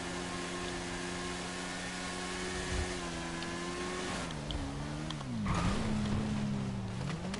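A motorbike engine in GTA 5 drones steadily, then revs and shifts pitch up and down as it accelerates, loud and unbroken with no voices.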